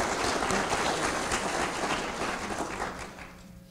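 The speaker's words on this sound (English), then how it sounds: "Please give Major General Kilo one more round of applause for that great words of wisdom." At an Air Force ROTC commissioning ceremony, a crowd applauds in a dense, even round of clapping that fades toward the end.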